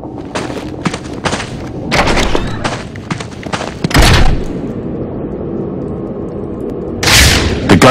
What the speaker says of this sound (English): The gunshot came from the bell tower.